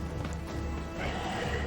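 A flaming horse neighs and whinnies amid clattering, crashing combat noise in the video game The Witcher 3: Blood and Wine, the cry blending into a dense, loud mix.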